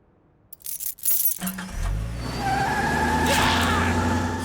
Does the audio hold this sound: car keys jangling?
yes